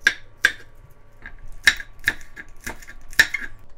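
A knife slices Cheongyang chili peppers on a cutting board for a spicy skate sashimi salad, tapping out crisp, close chops in an uneven rhythm, about nine strikes, some sharper than others.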